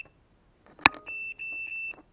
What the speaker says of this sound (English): There, it beeps. Quite loud.